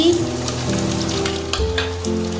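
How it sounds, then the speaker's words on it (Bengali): Chopped onions sizzle loudly in hot oil for a chicken curry with potatoes, added after ginger and garlic have browned, with a close, steady frying crackle and a brief stir. "এবার লাল করে ভেজে নেব পেঁয়াজটা"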